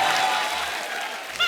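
Audience applause greeting a guest on a Hindi comedy show, a dense, steady wash of clapping from a studio crowd that holds throughout and fades slightly toward the end.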